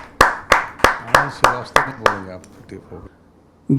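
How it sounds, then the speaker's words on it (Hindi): Hand claps at a Hindi poetry recital: about seven sharp, evenly spaced claps close by, then a voice begins as the clapping stops. "आप सबकी जोरदार तालियों के माध्यम से"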